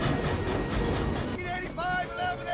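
A steam locomotive speeding up in Back to the Future III (1990), its dense rumbling clatter filling the clip, with whistle-like tones rising in the second half amid other film sound.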